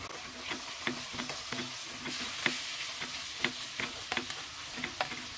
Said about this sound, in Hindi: ये शामिल करके इसे अच्छे तरीके से मिक्स करेंगे और इसे भुनेंगे कि टमाटर सॉफ्ट हो जाए।